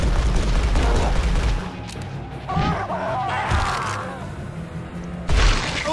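Gunfire in an Evil Dead video game, several loud booming shots and crashes in quick sequence mixed with game sound effects.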